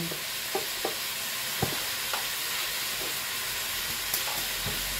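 Food stirred in a cooking pot with pepper, salt and stock cubes, a steady sizzling hiss broken by scattered light clinks and scrapes of the spoon, close and even, no talk.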